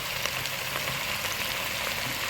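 Mixed vegetables for an Onam-style avial being stirred in a hot pan, a steady close sizzle with soft scraping movement running throughout, no voices.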